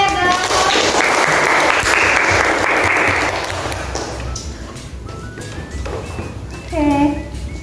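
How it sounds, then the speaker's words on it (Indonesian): An audience at a religious study gathering claps for about three seconds, then thins into scattered taps while someone speaks. "Oke, tepuk tangannya guys."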